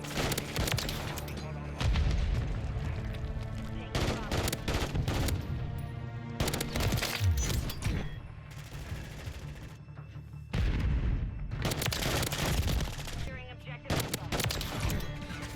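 Repeated bursts of FR 556 rifle fire in Call of Duty: Modern Warfare 3 crack out close and loud, with brief gaps between volleys and other in-game gunfire and booms mixed in.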